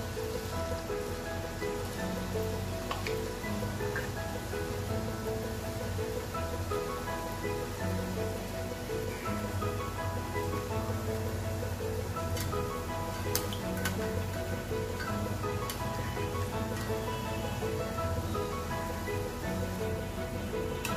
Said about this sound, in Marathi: आपण आता हे बॅटर पातळ आपण तळून घ्यायचं।